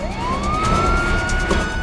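A police siren rises in a long upward sweep and then holds a loud, steady wail, close by, with a faint pulsing undertone throughout.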